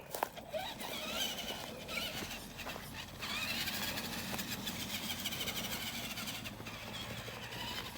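A Jegs Hooligan Cen B50 RC truck powers along a trail, its electric motor whining and surging steadily, with crunching and scraping from the ground throughout, close and fairly quiet.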